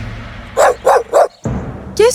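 A dog in an animated fairy tale lets out three quick, loud barks in a rhythmic burst, followed by a short growling tone and another yelp.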